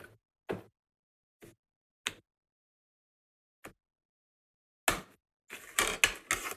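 A hand-cranked embossing machine rolls a card inside an embossing folder, giving sparse, close mechanical clicks and ratcheting ticks spaced out, then a denser burst of grinding creaks as the crank turns faster; nobody speaks.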